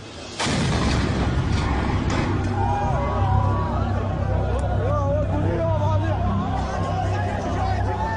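An explosion tears through an Iraqi police station in Khalidia, a sudden heavy boom followed by sustained loud rumble, shouting and a babble of voices amid the chaos.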